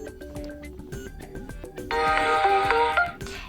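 An alarm ringtone preview plays from a Samsung Galaxy F14 smartphone: a bright electronic melody of short tonal notes gives way to a sustained, shimmering chime that swells and then fades, close and clear.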